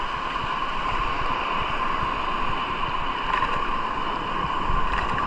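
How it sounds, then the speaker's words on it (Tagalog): Big ocean waves rolling and surging near a shoreline during ultralight casting at high tide, a continuous loud wash of surf mixed with wind buffeting the microphone. "Grabe yung alon nun, namumuti talaga guys."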